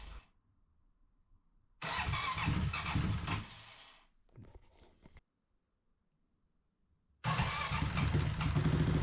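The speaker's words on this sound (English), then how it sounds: "Two or three presses of the starter button but then he fired up like nothing had ever happened." A CCM motorcycle engine cranks on the starter in two or three short bursts, then fires and runs loudly up close, settling into a steady idle.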